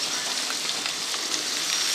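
Onion and chopped bitter gourd frying in oil on a tawa, an even, continuous bright sizzle heard up close and fairly loud, with no one speaking.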